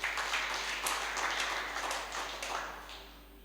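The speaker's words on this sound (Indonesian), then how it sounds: "Kasih tepuk tangan bagi Tuhan." A church congregation at an Easter service claps for God, a faint, steady patter of many hands that thins toward the end.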